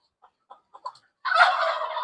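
Turkeys on a backyard poultry farm give a few short, soft clucks, then break into a loud, rapid gobble that rattles on for the last moment.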